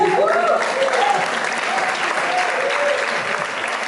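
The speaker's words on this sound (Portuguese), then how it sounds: "Se você crê nisso, aplauda você." A church congregation applauds at a first-anniversary celebration in Lauro de Freitas, Bahia, with dense, steady clapping sustained throughout, some voices calling out underneath.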